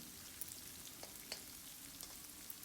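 Garlic frying in a pan for palak chana dal, a quiet, steady sizzle with a few soft crackles and small pops, no voices.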